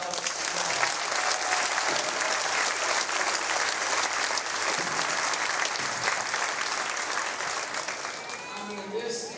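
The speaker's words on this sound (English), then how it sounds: "Big round of applause for Alex." A crowd at a Ludington vs Manistee event applauds Alex, a team player being honored, with dense, steady clapping that fills the whole stretch at close range and tapers slightly near the end.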